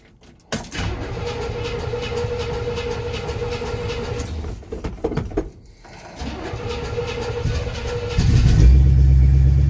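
A 1968 Chevy engine cranks and catches on a cold start, then settles into a rough, steady idle with a brief dip and a louder rumble near the end, heard close by.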